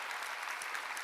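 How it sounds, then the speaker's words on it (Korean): Applause from a church congregation at a summer mountain revival meeting, a steady, fairly faint wash of clapping hands lasting the whole moment without pause. "박수로 하나님께 여달아"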